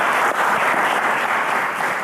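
Studio audience applauding on a televised quiz show, a dense, steady wash of clapping that stays loud and even for the whole stretch with no voices over it.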